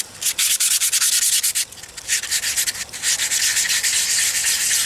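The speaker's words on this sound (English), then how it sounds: "I'll rub the two papers together to get some of that heavy grit off of there" Two sheets of 220 grit sandpaper rubbed against each other to knock down the grit before polishing pipes, a loud, steady rasping scrape in quick repeated strokes, close up with no talking.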